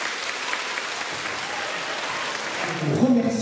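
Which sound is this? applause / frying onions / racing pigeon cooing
applause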